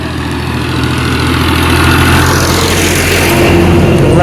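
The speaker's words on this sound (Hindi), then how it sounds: "ट्रैक्टर आगे आ रही है।" A tractor engine runs loud and close with a steady low rumbling drone that builds slightly as the tractor draws nearer, continuous throughout with no speech.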